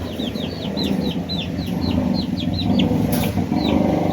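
A flock of birds chirps busily in rapid, repeated calls, with chickens clucking and shuffling in the background at a poultry farm, fairly close and loud.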